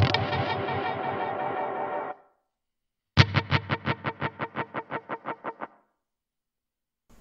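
A guitar chord warbles through an oil can delay effect, rings then cuts off; after a pause, a burst of rapid pulsing repeats stutters and fades out.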